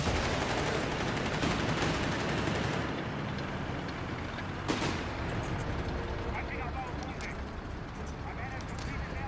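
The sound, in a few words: Stuka strafing run gunfire in video game Company of Heroes 3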